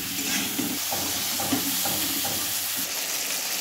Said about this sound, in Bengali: হলুদ গুঁড়ো, আমি 10 মিনিটের মতো লাল করে ভেজে নেব।